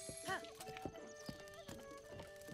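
Horse hooves clip-clop at a steady gallop in The Legend of Zelda: Breath of the Wild, with a clear whinny rising early on, close and prominent over soft game music.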